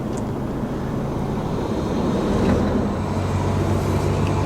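A DAF XF105 truck pulls away and drives, a steady low engine drone with rising road and wind noise throughout, close and loud, no talk.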